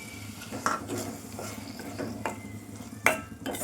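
A spoon stirs tomato paste into a bean masala curry in a pan, giving soft scraping and clinking strokes at an uneven pace, with a louder knock near the end, faint and close, no talking.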